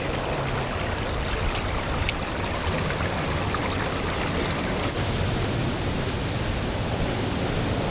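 A clear New Zealand river flows steadily along a hiking trail, a continuous broadband rush of water with no breaks, fairly close and even in loudness.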